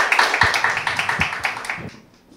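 Audience clapping at a Korea University startup award ceremony, a steady close patter of many hands lasting about two seconds before fading out.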